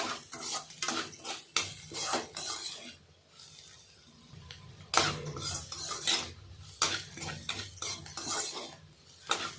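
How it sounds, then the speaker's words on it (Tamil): Spoon scraping and clanking in a pan while bitter gourd thokku is stirred with chili powder, in irregular bursts of metallic scrapes with brief quieter pauses between strokes. "நல்லா வதக்கி விடணும் நல்லா கலந்து விட்டால் தான் மிளகாத்தூள் நல்லா வேகும்"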